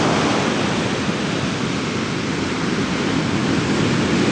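Ocean surf at Centerville Beach, a loud, continuous rushing wash of breaking waves close by with no pauses and no voices.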